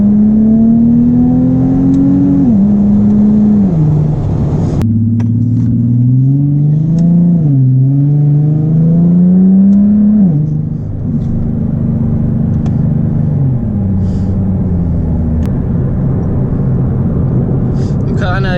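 A Nissan 370Z with a Greddy RS exhaust revs and drones through rising and falling pitch sweeps under boost, loud and close, with an interior cabin feel as the exhaust note climbs under load.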